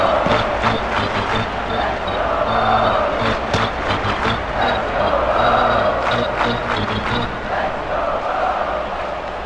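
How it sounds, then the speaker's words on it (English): A ballpark crowd in the baseball game MLB 2K5 cheers in a sustained, loud roar with rising swells and scattered shouts, Houston Astros against Baltimore Orioles, with faint voices mixed in. "They're down by 1, but the fans are still cheering. This ballpark is pumped."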